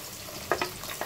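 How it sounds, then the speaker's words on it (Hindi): Onion frying in oil for chicken karahi makes a low hiss broken by a few short bursts of crackle and stirring, close and fairly quiet. "इसके अंदर हमने ये प्याज डाल के फ्राई करना है।"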